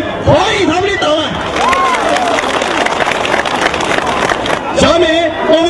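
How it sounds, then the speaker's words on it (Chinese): Applause and cheering from a gathered crowd welcoming guests at a Miao flower-tree festival in Guanling, Guizhou, a steady wash of clapping under an announcer's amplified voice and crowd noise. "让我们以热烈的掌声欢迎他们的到来"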